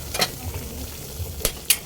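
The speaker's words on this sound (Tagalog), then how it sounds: "Ayan na, kumukulo na." Tomato and onion broth simmering in a covered pot, giving a soft, steady bubbling hiss with a few brief louder clinks or lid rattles, heard close and alone.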